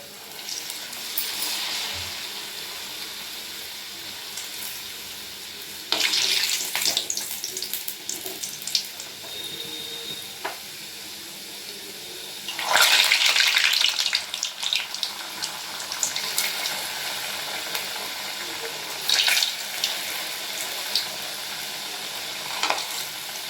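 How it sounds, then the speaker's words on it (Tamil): Vegetable spring rolls dropped one by one into hot oil: a continuous frying hiss that swells into louder bursts of bubbling sizzle as each roll goes in, with no speech. "இப்போது எண்ணெய் நல்லா சூடு ஏறிடுச்சு இதில் நான் இந்த ரோலை பண்ணி வச்சுக்கிற ரோலை எண்ணெயில் ஒரு ஒரு ரோலாக"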